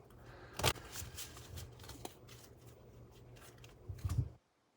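A deck of tarot cards is shuffled by hand, giving a soft, quiet riffling and flicking that runs for a few seconds, with a brief louder flutter near the start and another at the end.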